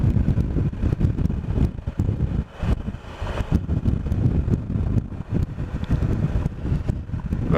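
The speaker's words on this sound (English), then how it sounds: "Now it's a hot wind blowing across, would you believe?" Hot wind buffets a motorcycle rider on a Triumph Explorer along a rural byway, a loud continuous low rumble of wind noise over the helmet, unbroken with no talk.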